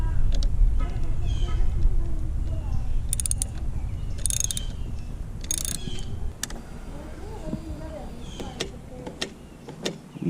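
A ratchet clicks in short bursts while grip hardware is tightened on a Harley-Davidson Iron 883, with a low background rumble and a person speaking at times.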